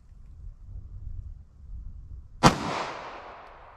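A single sharp 9mm pistol shot from a 4-inch barrel, fired at ballistic gel about 5 yards away, cracks loudly after a quiet stretch and rings out into a fading outdoor echo.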